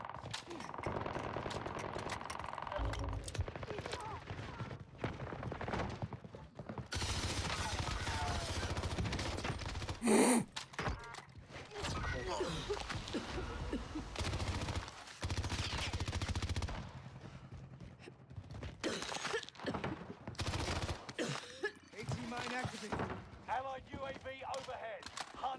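Bursts of automatic gunfire from weapons loaded with nebula rounds in Call of Duty Warzone, firing in rapid repeated volleys with short gaps, fairly close, mixed with talking voices.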